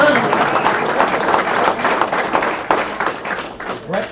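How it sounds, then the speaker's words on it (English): An audience at a township council meeting in Howell, New Jersey claps for several seconds in loud, dense applause that thins slightly toward the end. "Let's give her a round of applause."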